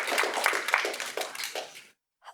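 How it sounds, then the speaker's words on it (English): An audience at a student union annual members' meeting applauds with brisk, fairly close clapping for about two seconds before it cuts off into a short silence. "Round of applause."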